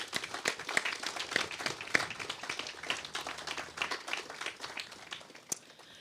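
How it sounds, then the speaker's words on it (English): Scattered clapping from a crowd at the construction commencement ceremony for the Canadian Canoe Museum, a sparse, uneven patter of individual hand claps that thins toward the end. "please join me in a warm round of applause for the full project team"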